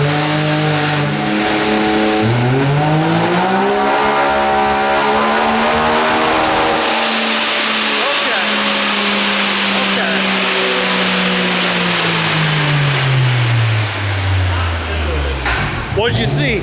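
A big-turbo 360 hp Can-Am X3 side-by-side engine revs loudly and close, climbing and holding near the rev limiter, then sweeping back down near the end.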